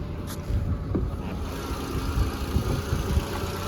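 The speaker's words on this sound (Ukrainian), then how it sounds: "Двигунчик чуєте, як працює? Все тихесенько, все відмінно." A Volkswagen Touran with a 1.6 petrol engine idles quietly and evenly under the open hood, a low steady hum with faint soft knocks and no voices over it.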